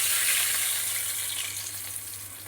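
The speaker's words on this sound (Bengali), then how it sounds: "এবার আমি মশলাগুলো মশলার গোলাটা দিয়ে দিচ্ছি" A ball of spice paste for a thin hilsa curry with potato and eggplant hits hot oil, giving a steady, loud, close hiss that eases slightly as it continues, with no talking.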